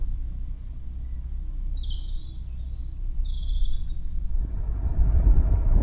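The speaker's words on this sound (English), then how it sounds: "Isn't it lovely hearing the birds?" Birds singing by a canal on a spring day, several short high chirps and trills over a steady low boat engine rumble, with a louder rushing swell toward the end.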